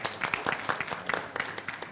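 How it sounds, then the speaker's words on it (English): Audience at a technical session on financing challenges gives brief scattered applause, close and uneven, fading quickly. "A big clap for the audience,"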